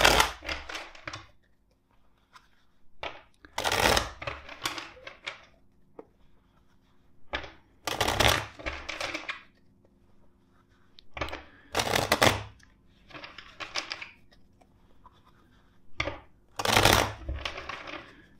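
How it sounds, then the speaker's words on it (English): A tarot card deck shuffled four times, each shuffle a short crisp riffling burst with quiet pauses between, close and alone without speech. "First, let's shuffle the deck four times."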